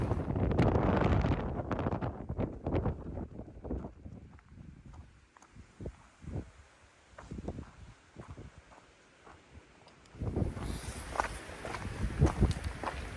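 Cold wind gusts across the exposed summit trail of Mount Wrightson in Arizona's Coronado National Forest, rumbling and buffeting close to the microphone, with crunching footsteps along the way and a stronger blast near the end.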